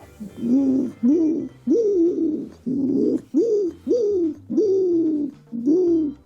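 A voice imitates the cooing of a wood pigeon, the old white-collared palombe: eight low, hooting coos in a steady rhythm, each rising then falling, close and loud with short pauses between.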